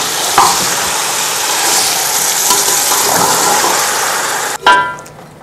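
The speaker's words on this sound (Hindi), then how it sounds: "फिर इसको थोड़ा सा भूनते हैं।" Meat sizzles and fries loudly with salt and yogurt in a pot for Eid-style degi pulao, a dense steady hiss with stirring scrapes throughout and a sharp clatter near the end.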